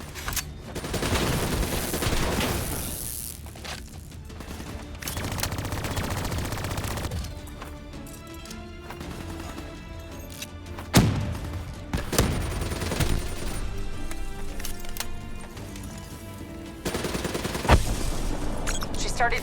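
Sustained automatic gunfire and bursts at turrets in the Call of Duty: Black Ops 3 video game, loud and dense with sharp impacts and booms over a continuous battle din, with voices faintly in the mix.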